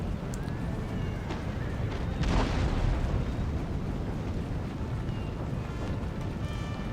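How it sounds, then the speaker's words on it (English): A field battle in Empire: Total War multiplayer rumbles with distant musket volleys and cannon explosions, a dense, muffled roar of fire that swells briefly into a heavier blast. "you can see I'm shooting up the general's bodyguard now"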